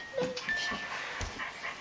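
A Go Go My Walkin' Pup toy dog gives a few small, high yapping barks, close by and moderately loud, in a quiet room.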